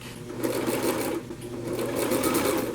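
A sewing machine stitches forward and back on knitted fabric, a steady close mechanical whir with a brief dip in the middle as the direction changes.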